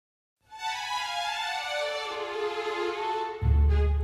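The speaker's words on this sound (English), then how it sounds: "I like to add just a little bit of the next note in the legato patch so that you do get that slur." Orchestral sample-library legato strings hold a sustained bowed note, then slur smoothly into the next pitch, with a low, full swell entering near the end; no talking.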